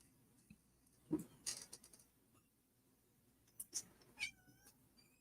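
A house cat meowing indoors, a few short faint meows with soft clinks and small movement sounds between them.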